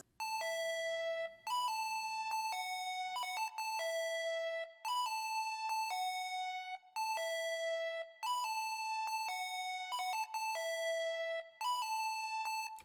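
A bright, bell-like synth lead, a Pluggnb lead preset, plays a simple repeating melody of clean sustained notes, loud and alone with no voices.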